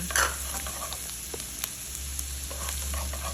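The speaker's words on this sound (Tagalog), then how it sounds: "Next, igisa ko na yung bawang." Garlic and onion are sautéed in a pan with a steady, quiet sizzle close by. A few faint clicks from the utensil sound at irregular moments.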